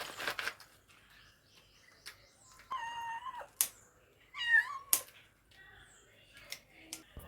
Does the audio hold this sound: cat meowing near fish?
yes